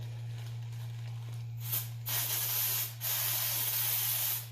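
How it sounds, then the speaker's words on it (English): Raid insect spray hisses from an aerosol can into a garbage bag in bursts, a steady spray, a brief break, then longer close hissing over a constant low electrical hum. "you're going to spray the Raid in there so it fills the whole compartment with a mist of Raid"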